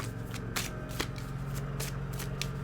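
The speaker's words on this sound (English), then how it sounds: "Let me shuffle and pull the cards for you from this deck." A deck of cards being shuffled over and over, its quick riffling bursts falling at irregular intervals over a steady low hum, close and fairly quiet, with nobody speaking.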